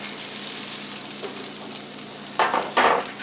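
Onion frying in a pan on a home stove, a soft steady sizzle that ends in two louder bursts of hissing and stirring near the close.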